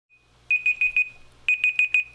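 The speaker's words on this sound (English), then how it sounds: "now I'm gonna start my timer" Kitchen timer beeping while peaches blanch, sharp electronic double-tone beeps in two bursts of four, close and clear, with a low hum underneath.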